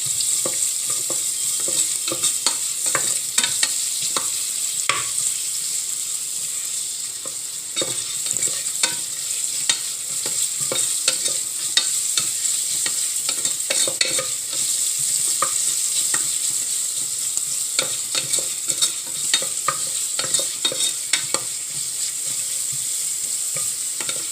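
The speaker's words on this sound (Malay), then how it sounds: "cili kering dan bawang. Kita kena tumis." Dried chillies and onion are stir-fried in oil for sambal tumis, giving a steady bright sizzle punctuated by repeated clicks and scrapes of a spatula against the pan, close and without talking.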